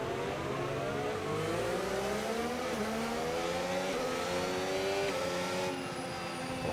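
An F1 25 race car on a warm-up lap of the Hungarian Grand Prix in the video game gives a continuous, high engine whine whose pitch climbs and drops through gear changes, steady and close, with no talking.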